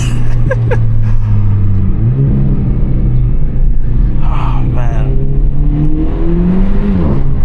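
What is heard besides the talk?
Renault Megane RS 300 Trophy engine revving while driving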